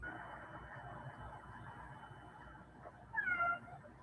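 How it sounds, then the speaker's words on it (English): A cat meows faintly in the background of a quiet room, one short drawn-out call near the end over a soft low hum. "You can't see the cat, but you can hear the cat."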